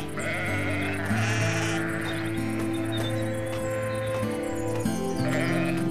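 A lamb bleats in a series of wavering, drawn-out cries, fairly close and clear, repeating across the whole stretch over a faint background.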